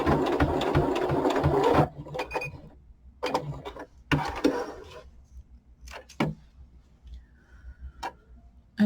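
A sewing machine stitches a hat in bursts, a rapid mechanical chatter at first, then short separate runs and clicks with quiet pauses between them, close and clear.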